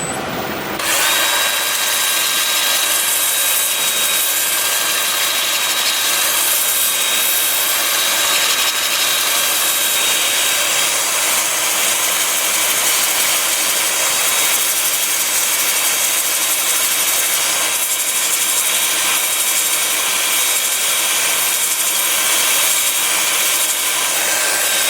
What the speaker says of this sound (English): I'll be starting the sanding at 80 grit with my 2-inch disc, lathe spinning in reverse